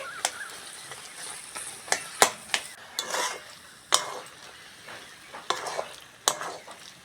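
Banana flower frying with spices in a pan, stirred by hand: a steady close sizzle broken by repeated sharp scrapes and clacks of a spatula against the pan, spaced irregularly through the stir-fry.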